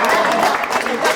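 A comedy game show studio audience claps in a steady, dense burst of applause with some crowd noise, loud and close throughout.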